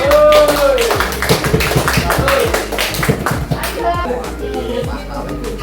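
Children and teachers clap at an elementary school training session, a loose burst of many hands with sharp taps, mixed with voices and chatter throughout.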